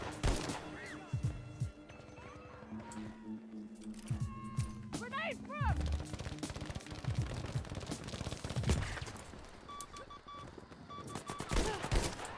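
Gunfire from a semi-automatic rifle in a Battlefield video game, with bursts of sharp shots, metallic clinks and other game effects, while a player talks over the action.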